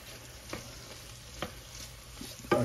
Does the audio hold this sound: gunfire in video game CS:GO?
no